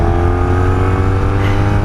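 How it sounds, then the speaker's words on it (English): A 1983 Honda V45 Sabre VF750S with its V4 750 engine and factory exhaust, heard while riding: a steady, loud, throaty drone with strong low harmonics, continuous and close, with no talking. "she sounds really just nice and throaty and solid. This is a very fast engine for a 750. It's a V4"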